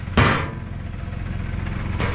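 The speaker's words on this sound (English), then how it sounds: "All I need is a hammer." A single sharp metallic hammer strike on a scrap freezer rings out close and loud at the start, followed by a fainter knock near the end over a steady low engine-like hum.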